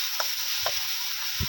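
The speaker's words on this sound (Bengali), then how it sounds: "পেঁয়াজটা ভাজা হয়ে গেছে" Ginger and onion paste frying in hot oil with dried chillies and a bay leaf, a steady close sizzle with a few soft stirring scrapes, no voices.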